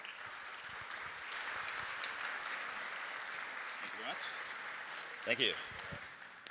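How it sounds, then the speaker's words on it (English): A conference keynote audience applauds as a speaker walks on stage, with steady crowd clapping through most of the clip and a brief spoken thanks near the end. "Give him a big round of applause."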